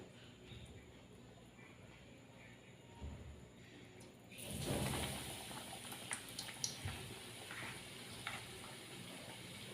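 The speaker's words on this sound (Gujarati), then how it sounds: "થોડું ધીમો તાપ કરીને પછી તળી લેવાનું." Vada pav frying in oil over a low flame: faint, quiet background at first, then a steady hissing sizzle begins partway through and continues with a few small pops and clatters.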